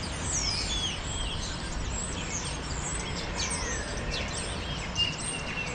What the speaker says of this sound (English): I love listening to birds